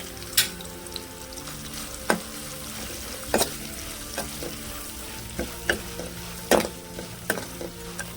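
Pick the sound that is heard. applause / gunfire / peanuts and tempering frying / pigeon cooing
peanuts and tempering frying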